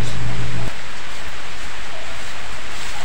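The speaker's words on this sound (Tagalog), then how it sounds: "umulan dito sa amin" Steady, dense rain falling outdoors, a loud continuous hiss with no pauses and no voices over it.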